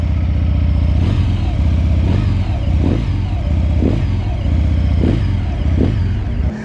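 A Benda Chinchilla 350 cruiser motorcycle with a CVT rumbles close by and revs in short, repeated bursts, roughly once a second, over a steady low idle.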